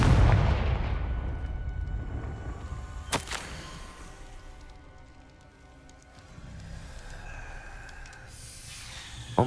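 Confringo blasting spell from Hogwarts Legacy going off as a sharp, loud broadband crack about a third of the way in, over rumbling game ambience and a busy low-end background.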